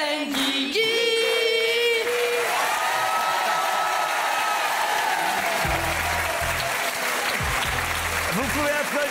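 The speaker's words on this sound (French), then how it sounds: "Vous pouvez applaudir Nicole Ferroni." Applause from a comedy show audience, a broad, steady roar of clapping and crowd noise, blended at first with sung or tonal voices and music, then continuing under a speaking voice.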